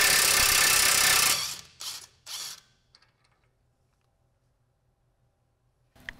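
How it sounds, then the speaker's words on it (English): A loud, close impact wrench hammers on a vehicle's axle nut in a long burst, then gives two short bursts, followed by faint ratcheting clicks and near silence. "Now I'll grab my impact and get that nut off."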